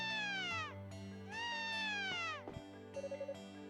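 A cat meows repeatedly in Ys VI: The Ark of Napishtim, drawn-out harmonic mewls, the first two long and gliding, followed by shorter cries and a quick run of soft chimes over a steady game music bed.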